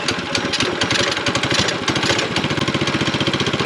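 Small engine on a child's homemade snowmobile running steadily nearby, a loud, rapid chattering putter with a fast, even firing rhythm that holds for several seconds.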